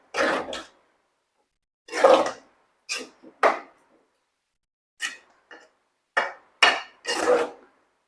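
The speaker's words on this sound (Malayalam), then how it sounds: "കുറച്ച് ഇളക്കി കൊടുക്കാം" Coconut, cumin and salt are stirred in a cooking pot, making irregular scraping bursts of utensil against pot, some short and some longer, separated by silent gaps.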